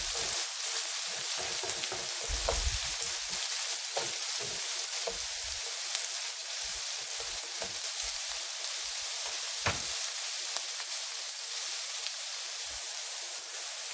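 Seafood-linguine ingredients fry in a pan over medium heat, giving a soft, even sizzle that hisses quietly throughout, with a few faint taps and crackles.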